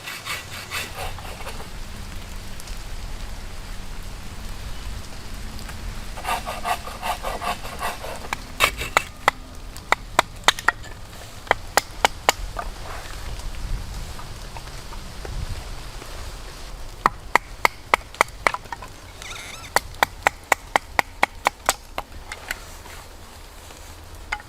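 Wood being chopped and sawn while a camp shelter is set up outdoors, with clusters of sharp, close knocks and cracks in quick bursts over a rough, continuous rasping and rustling background.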